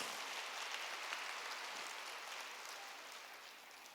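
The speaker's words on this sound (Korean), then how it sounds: "사람만 박수로 하나 돌리시기 바랍니다" A church congregation claps together during a Sunday sermon, a steady wash of hand claps that holds evenly and then slowly thins toward the end, with no voices over it.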